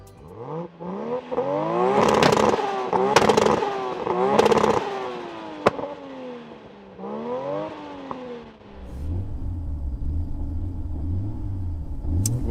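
A 900 bhp Toyota Supra and an 800 bhp Nissan Skyline R34 GT-R rev hard in repeated loud, rising bursts, then settle into a deep, steady rumbling idle, close by with no talk.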